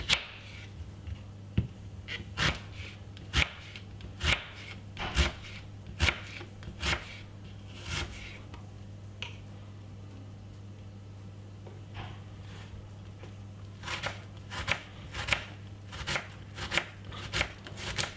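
Half a medium white onion being finely chopped with a knife on a board: sharp, close clicks in uneven bursts, a pause in the middle, then faster runs of cuts over a low steady hum, with no talking.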